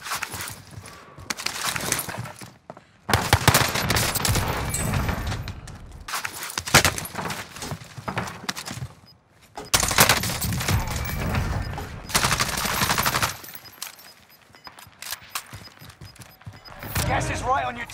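An XM4 assault rifle fires in long, near-constant bursts during a Call of Duty match on Rebirth Island, loud sustained volleys broken by short pauses, with game sounds around it.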